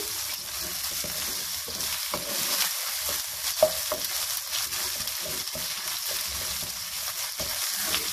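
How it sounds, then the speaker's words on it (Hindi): Garlic ginger paste sizzles and spits steadily in a hot pan, with occasional scraping stirs and small pops, up close and without any talking. "अब इसको भूनूंगी।"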